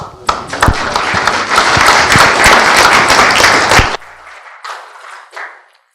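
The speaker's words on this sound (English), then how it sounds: "A round of applause." After a conference Q&A session, a room of attendees bursts into loud, dense applause that holds for about four seconds, then cuts off sharply, leaving faint scattered claps and murmuring voices.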